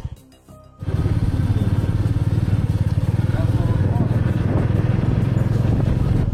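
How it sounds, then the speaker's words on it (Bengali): A motorcycle engine roars steadily at close range while riding along a highway between Kolkata and Puri, starting after a brief quieter moment and holding a loud, continuous drone throughout. "হাইওয়ের উপর আমার বাইক গর্জন করতে করতে এগিয়ে চললো।"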